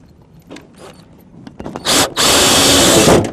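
Power drill driving screws while a direct vent fireplace is installed, a couple of quick short bursts and then a sustained, loud whirring run at close range with no talking.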